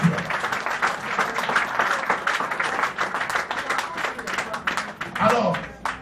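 Church congregation applauding the Lord during a service, steady brisk clapping from a crowd with a voice speaking over it.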